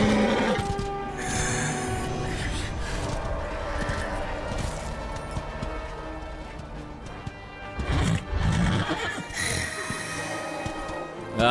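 A warhorse in Darksiders Warmastered snorts and whinnies amid dense, loud game sound that includes crashes and hoofbeats, with the horse calls surging near the end.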